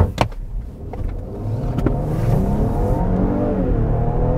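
A 2020 Lincoln Aviator with a twin-turbo V6 pulls away hard, its engine note rising steadily in pitch and loudness, heard from inside the cabin after a couple of brief clicks.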